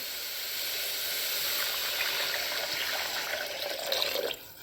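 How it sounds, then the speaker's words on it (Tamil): Steady rushing splash of water pouring into a pan, continuous for several seconds before cutting off abruptly at the end. "இப்போ பார்த்திங்கன்னா தேவையான அளவுக்கு தண்ணி சேர்த்துக்கலாம்"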